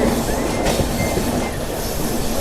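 Secunderabad–Guntur Intercity SF Express running at speed, loud close rumble of carriages with rhythmic clickety-clack of wheels over rail joints and a faint squeal, heard from aboard the train.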